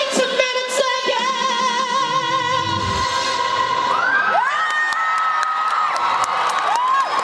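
A live comedy show audience breaks into loud clapping, cheering and shouting, with music carrying through underneath. Whoops and whistles rise over the applause, which keeps going throughout.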